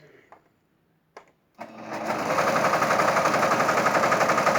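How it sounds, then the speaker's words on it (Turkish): A sewing machine stitches a tunic, starting after a few faint clicks and then running in a fast, steady, rhythmic chatter that holds close and loud to the end. "bugün tunik kesmiştim. Onu dikiyor."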